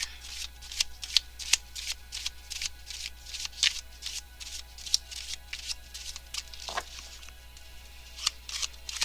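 Tarot cards being shuffled close up, with a long run of quick, crisp riffling flutters and soft taps in an uneven rhythm against a quiet background with a low hum.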